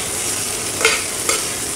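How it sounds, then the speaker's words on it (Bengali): Tomato and capsicum fry in a pan with onion and salt, giving a constant close sizzle broken by two quick scraping stirs of a spoon against the pan. "টমেটো, ক্যাপসিকাম, সামান্য পরিমাণ নুন দিয়ে এটাকে একটু নেড়ে দেব"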